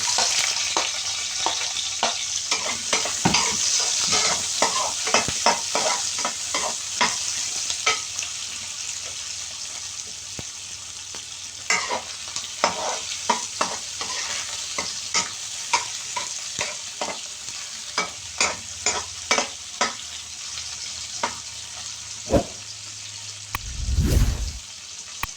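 Onion and garlic fry in a pan, with a steady sizzle under repeated scrapes and clinks of the spoon, and a short burst of running water near the end.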